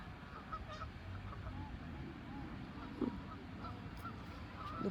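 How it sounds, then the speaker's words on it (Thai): Ducks honk and quack faintly amid a low, steady outdoor murmur, with a brief louder call near the end. "เป็ดดิ"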